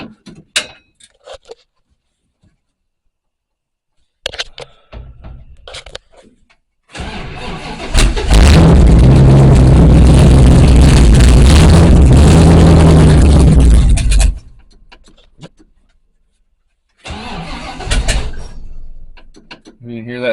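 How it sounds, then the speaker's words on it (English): A Crown Vic 460 race car engine cranked by a high-torque mini starter, a loud sustained roar for several seconds close by, with short bursts of activity before and a brief revving bump after. "You can hear that it's got a little mini starter on it. High torque starter."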